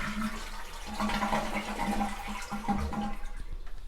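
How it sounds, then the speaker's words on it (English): Toilet being flushed with its water supply shut off, giving a steady rushing, gurgling drain of water from the tank for several seconds, close by and with no talking. "give it a flush."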